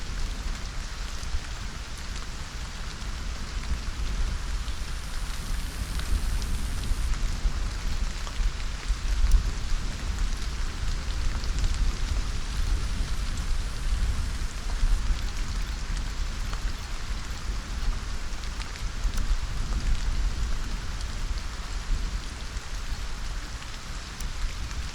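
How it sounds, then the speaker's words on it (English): Steady rain falls in the video game Stranded: Alien Dawn, a dense even hiss that runs unbroken for the whole stretch at moderate loudness, with no voices over it. "Why can I still hear rain?"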